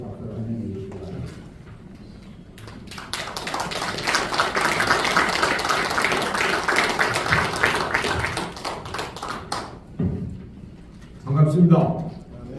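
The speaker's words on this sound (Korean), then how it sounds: "나오실 때에 박수를 한번 해주시기 바랍니다." An indoor seminar audience at a national prayer gathering claps to welcome the speaker, a dense burst of applause lasting several seconds and then fading, with a voice speaking before and after.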